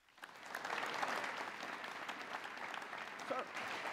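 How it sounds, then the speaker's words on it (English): Steady applause fills a large audience hall at a Hawaii Community Foundation event, welcoming Kelvin Takeda, its president and CEO. Many hands clap at once, swelling quickly and holding at an even, moderately loud level for several seconds. "How about a nice round of applause for Mr."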